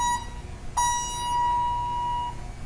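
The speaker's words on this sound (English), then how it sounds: "I pushed it too many times, now it's beeping." Hydraulic elevator call button, ThyssenKrupp, with yellow buttons, gives a short beep, then after a brief pause a single long, steady tone lasting about a second and a half, clear and close in a quiet hallway.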